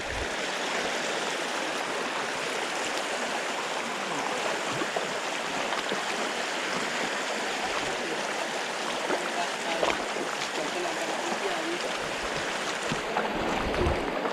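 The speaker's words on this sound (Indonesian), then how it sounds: "Sungai kecil ketemu sungai gede." A small stream pours into a larger river at a fishing spot, rushing in a steady, dense flow that stays loud and unbroken throughout.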